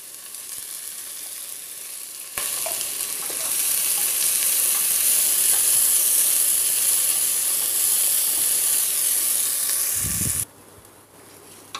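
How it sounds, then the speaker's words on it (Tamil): Onions and fenugreek seeds fry in hot oil with a steady, close hiss that swells louder after a couple of seconds, then drops abruptly near the end after a soft knock. "பாருங்கள், இப்போ இந்த வெங்காயம் நல்லா பொரிஞ்சிருக்குங்க"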